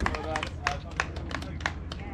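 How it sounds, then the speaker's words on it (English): Scattered clapping from a small group saluting senior riders after a Wessex League cyclocross race at Foxhill, with sharp separate claps over outdoor background noise. "Round of applause for all the seniors then, guys."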